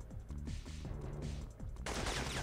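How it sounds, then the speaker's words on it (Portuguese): Machine gun fire in the PlayStation 1 game Siphon Filter: faint, rapid rattling bursts that repeat, then a sharper, brighter crash near the end. "O cara tá com a metralhadora lá no prédio ali"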